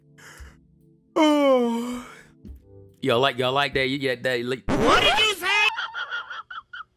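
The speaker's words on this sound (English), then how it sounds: "Y'all like that yawn I ad-libbed that." A person performs a drawn-out, exaggerated yawn with breathy sighing and moaning tones, close and loud, mixed with a short spoken exclamation.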